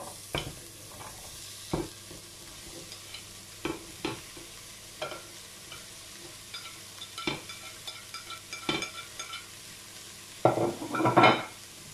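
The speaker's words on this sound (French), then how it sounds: "Maintenant, je rajoute mes poivrons." Bell peppers sauté in a pan with quiet stirring scrapes and light sizzling, broken by intermittent utensil clacks that grow busier toward the end, with no talking.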